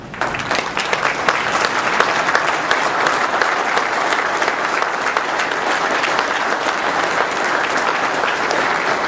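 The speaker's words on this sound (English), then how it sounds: "please stand up and give her a warm round of applause" An audience stands and applauds an artist at the unveiling of her Ideal Holstein cow and bull paintings, a loud, dense, steady wash of clapping from a large crowd that carries unbroken throughout.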